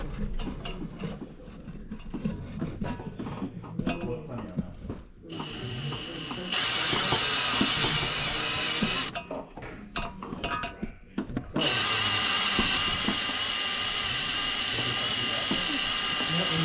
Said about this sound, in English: it also is spring loaded, so you push on it as you drill